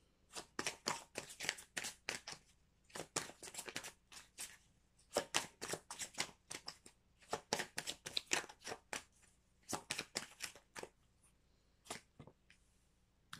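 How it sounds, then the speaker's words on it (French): Oracle cards are shuffled by hand in quick, crisp bursts of riffling and flicking, grouped in short runs separated by brief pauses, close and quiet with no talk. "on prend des cartes dans l'oracle du sixième sens pour compléter ce premier message"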